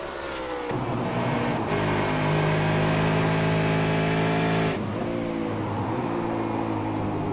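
A V8 Supercar at Phillip Island in a racing video game downshifts aggressively, its loud, close engine droning steadily and then dropping sharply in pitch as it goes back through the gears.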